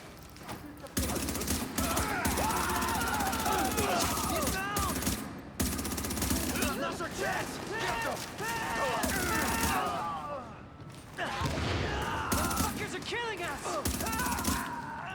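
Sustained gunfire fills a firefight in the video game The Division, close and dense rattling bursts with brief breaks between volleys, while a voice talks over the shooting.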